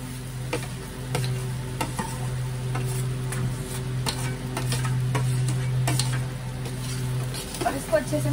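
Boiled potatoes being stirred and tossed in a hot pan with a light sizzle, repeated close scraping and ticking strokes over a steady low hum, no voices.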